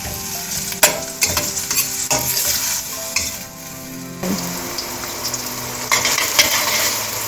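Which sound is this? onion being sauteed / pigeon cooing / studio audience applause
onion being sauteed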